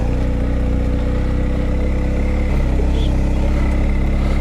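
Adventure motorcycle crawling in first gear along a dry bush track, its engine thrumming close and steady with a low rhythmic pulse and a slight rise in note partway through.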